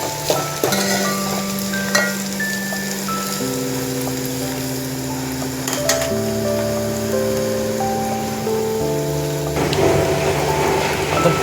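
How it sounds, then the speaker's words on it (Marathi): Chopped tomatoes fry and sizzle in a pan for street-style egg bhurji with onion, a continuous close crackling hiss with stirring, under steady background music. "त्याच्यानंतर टोमॅटो टाकूया, भाजून घेऊ"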